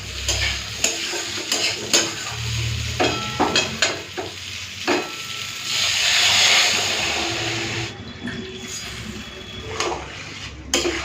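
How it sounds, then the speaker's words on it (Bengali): Potato, eggplant and bitter gourd fry in a pan, sizzling under repeated scraping stirs and clinks; water poured in brings a louder hissing burst midway before the stirring resumes. "এই যে আলু বেগুন উচ্ছেটাকে ভালো করে ভেজে নিচ্ছি চলো জল দিয়ে দিচ্ছি"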